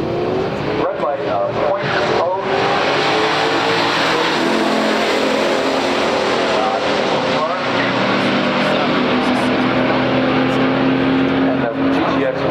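A 1967 Chevrolet Impala and a 1968 Plymouth GTX with a 440 V8 run a pure stock drag race, their engines roaring loud and continuous as they accelerate down the strip, with the heavy drone rising and shifting throughout.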